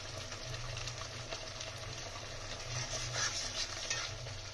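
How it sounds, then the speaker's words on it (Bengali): Spice masala stirred and sautéed in oil for egg curry, a soft, continuous sizzle with scraping stir strokes, fairly faint and without talk. "মশলাটা ভালোভাবে কষিয়ে নেবো"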